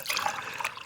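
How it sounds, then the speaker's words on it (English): Coffee is poured into a cup in one short, steady liquid stream that splashes and trickles close by, with no voices. "Oh, now I can just pour myself a cup of coffee."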